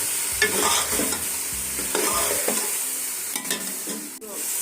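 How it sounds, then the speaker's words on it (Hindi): Ginger-garlic paste frying in a pan for a Pakistani okra and meat curry, a steady loud sizzle with spoon scrapes stirring through it, close up and with no speech. "इसको अच्छे से हम भून लेते हैं।"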